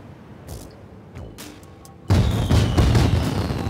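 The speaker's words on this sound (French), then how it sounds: "Il va faire des feux d'artifice" Fireworks go off in the video game Spore: a few soft distant pops, then a sudden louder burst of crackling booms that keeps rumbling and popping to the end, with no talking.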